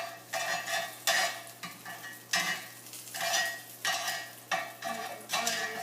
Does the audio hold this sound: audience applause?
no